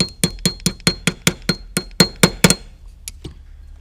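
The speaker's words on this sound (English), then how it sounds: "I use a 1/16 inch punch, starting at the bottom and pushing the pin out the top of the slide." A 1/16 inch punch is tapped against the extractor pin of an XDS pistol slide. About a dozen sharp, close metallic clinks come in a quick, even rhythm, then two fainter taps.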